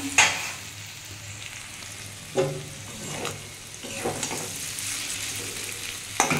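Potatoes fry in a covered pan over a low gas flame, giving a soft, steady sizzle broken by a few sharp clatters of stirring or the lid.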